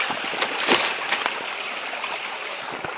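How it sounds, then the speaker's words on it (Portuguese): A practically untouched forest stream off the trail in dense woodland, its water rushing and splashing steadily at close range with occasional sharper splashes, with no voices. "Curso d'água praticamente virgem."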